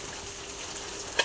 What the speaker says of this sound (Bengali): এদিকে বসেছি মাছ ভাজা